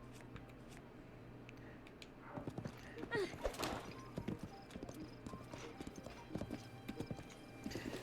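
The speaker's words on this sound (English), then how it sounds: "just riding a horse gently across the plains of Hyrule" Horse hooves clip-clop at an easy walking pace as a rider crosses open plains in Zelda: Breath of the Wild, the soft rhythmic steps quiet and close with a brief whinny, while a voice talks faintly over it.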